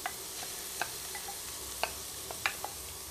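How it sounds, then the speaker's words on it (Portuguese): Chicken frying in hot oil over medium heat, a steady hiss with occasional sharp pops and crackles scattered throughout, close up. "Esquentou aqui o óleo, vamos colocar o frango na panela."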